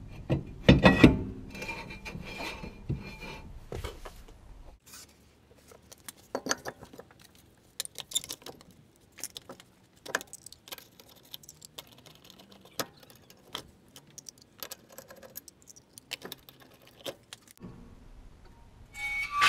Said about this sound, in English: And I'll just slide the drum back on.